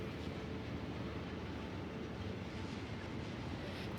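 A train in Factorio runs along rails with a steady, dense rumble and rattle, loud and continuous, without pauses or voices.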